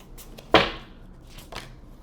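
Tarot cards are shuffled from an awkward angle, producing one sharp riffling burst followed by a softer second one in a quiet room.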